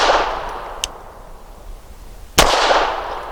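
Two shots from an Archon Type B pistol at an outdoor range, sharp loud cracks about a second and a half apart, each trailing off in a short echo.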